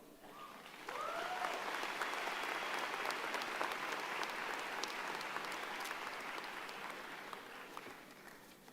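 A large audience at the George Washington University School of Business 2024 commencement breaks into sustained applause for the keynote speaker, starting abruptly and holding steady at a moderate, slightly distant level for about eight seconds.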